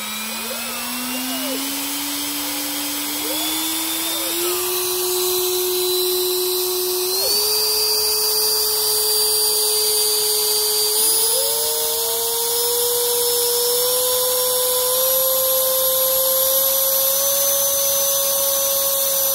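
An FMS 11-blade electric ducted fan on a 4S battery, fitted to a Sonic64 EDF wing, screams with a steady, loud turbine-like whine that climbs in pitch in steps as the throttle is advanced, heard close up and alone.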